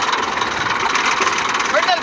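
A tractor engine running in a harvested wheat field, a steady mid-pitched rumble with a faint knock, heard close under someone talking throughout.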